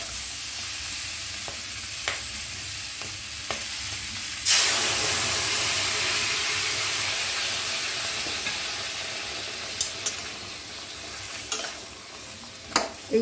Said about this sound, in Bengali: এবার আমি সেদ্ধ করা ডালটা এর মধ্যে দিয়ে দেবো।